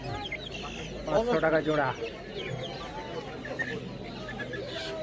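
Chickens cluck and squawk at a busy live poultry market on Galiff Street selling desi hens, turkeys and silkies, with a louder burst of clucking early on over steady crowd noise while vendors and buyers talk.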